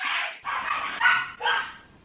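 Dogs bark in a quick burst of four sharp, bright barks at close range, with no talking.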